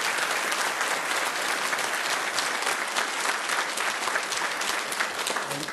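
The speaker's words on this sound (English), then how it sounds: "Could we give them a round of applause as well?" A sustained round of applause from an audience at a city council meeting in West Covina, with many hands clapping loudly and evenly throughout.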